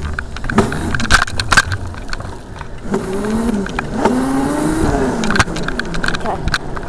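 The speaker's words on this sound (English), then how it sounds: "I'm on my dirt bike." Dirt bike engine running while riding, a steady motor drone with rising and falling pitch sweeps as the throttle changes, close and fairly loud, with clatter and wind noise throughout.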